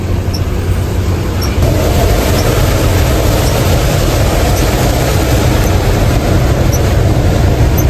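Heavy rain drums on a lorry cab while it is driven, a loud, steady broadband wash with low engine and road rumble underneath and no voices.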